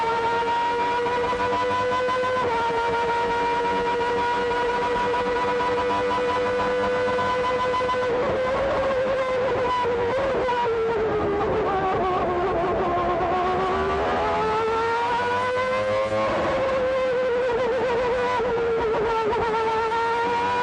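A 1988 McLaren MP4/4 Formula One race car engine screams at high revs, holding a loud, sustained howl that dips and climbs through gear changes and throttle shifts, heard up close and alone.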